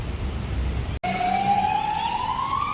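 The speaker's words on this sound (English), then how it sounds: "That was an ambulance that just passed." An ambulance siren passing along a street in Surfers Paradise, Queensland, cuts in suddenly after a brief dropout and wails steadily with a slowly rising pitch over background traffic noise.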